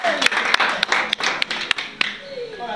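Audience members at an Akwa Ibom community youth lecture in Abuja clap in a slow, evenly spaced rhythm of sharp claps, with voices talking underneath.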